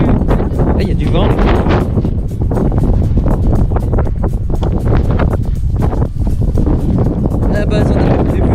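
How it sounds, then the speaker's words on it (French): Strong wind buffets the microphone at Rocapina beach in southern Corsica, a loud continuous roaring rumble with gusty surges and no talking. "Là il y a du vent."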